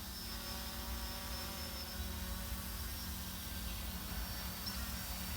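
A drone flies toward its landing during a beyond-visual-line-of-sight flight, giving a faint, steady motor whine and hum that holds evenly throughout with no talk.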